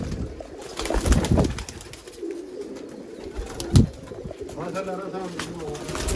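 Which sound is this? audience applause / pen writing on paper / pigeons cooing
pigeons cooing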